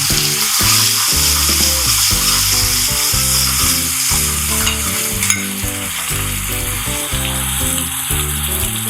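Chopped onions sizzle hard in hot mustard oil, a loud, continuous hiss with a faint stir partway through, all under steady background music and with no talk.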